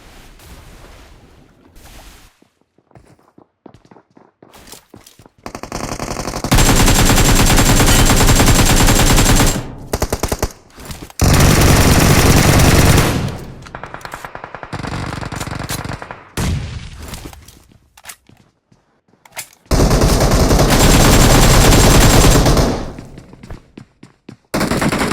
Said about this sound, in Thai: Enemies ahead! โอ้ยจะยิงกันสนั่นเลย